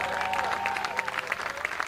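An audience applauds a live band with dense, steady clapping and scattered cheers that continue throughout, while a voice speaks over the clapping.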